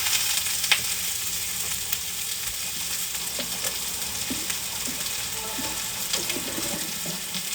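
Two pieces of pork tenderloin searing in a hot pan, a loud continuous hiss and spatter up close, with small pops and faint kitchen clinks scattered through and nobody speaking.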